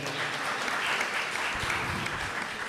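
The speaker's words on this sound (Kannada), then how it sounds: "ಮತ್ತೊಮ್ಮೆ ಜೋರಾದ ಚಪ್ಪಾಳೆ ಬರಲಿ" Loud, sustained applause from an audience at a Dasavani devotional music concert, a dense steady wash of many clapping hands filling the whole stretch without a break.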